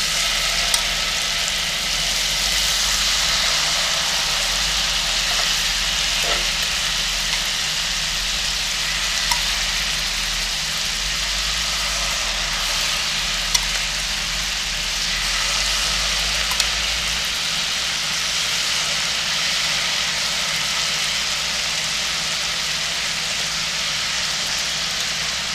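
Marinated spot prawns frying in a hot cast iron pan, a loud continuous hiss and sizzle that holds steady throughout with only a few faint clicks, close and without speech.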